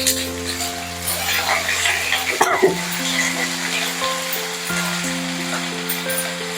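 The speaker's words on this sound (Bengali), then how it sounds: "এবার পেঁয়াজগুলো দিলাম শাপলাগুলো দিয়ে দিচ্ছি" Sliced onions and water lily stems fry in a pan, a steady close sizzle under a constant electronic hum, with a brief clatter of ingredients being added midway.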